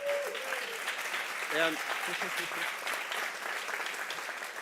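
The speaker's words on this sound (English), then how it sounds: "Please give him a round of applause." A commencement audience for a sports product management program gives a continuous round of applause, steady clapping heard under scattered speech and a few voices.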